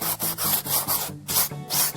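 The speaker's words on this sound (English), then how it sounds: "just go in there with a sanding block sander and lightly" Rhythmic rasping strokes of a sanding block lightly rubbing across wood on a themed boat prop, about eight quick back-and-forth passes, close and loud with no talking.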